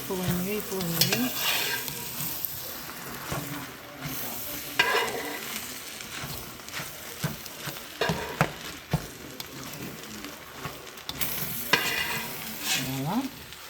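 Homemade Cantonese fried rice is stirred and tossed in a hot pan, a busy sizzle broken by repeated scraping strokes and clattering knocks of the utensil, close and fairly loud, with no voices.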